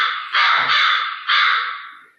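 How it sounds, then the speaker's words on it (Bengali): A crow caws loudly and close, two long harsh calls in a row with no other sound around them. "কাক। কিভাবে ডাকে? কা কা করে"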